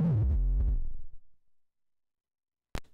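A buzzy electronic tone fades and drops away, followed by silence and a short high-pitched blip near the end.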